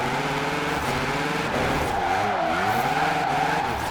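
Forza Horizon 4 Rocket Bunny MX5 with a 1016 hp V8 swap drifting on a mountain road: a loud, continuous engine drone with wavering revs and tyre squeal layered over it, close up and without talk.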